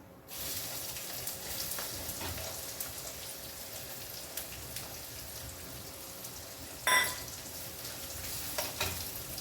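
A steady, dense sizzle of onions frying in hot oil with cumin fills the clip, with a brief clatter near the end.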